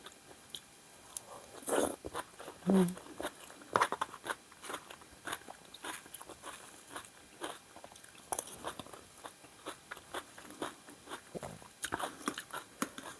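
Close crunchy biting and chewing of stir-fried mixed vegetables, with a dense run of irregular crisp bites and mouth sounds that continues the whole time, without talking.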